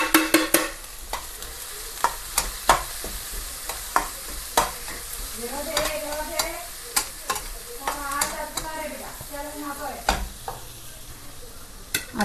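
Green chilli, turmeric and salt frying and being stirred in a pan for upma, with repeated scraping clinks of the utensil over a steady sizzle, loud and close with no talk.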